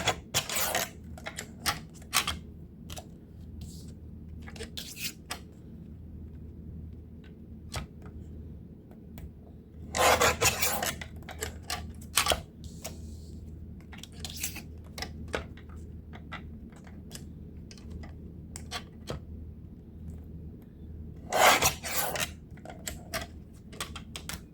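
Cutting through a deck of playing cards along a ruler, with a trimming cutter giving sharp, repeated clicks and snips, a few louder bursts of slicing standing out against a quiet background hum.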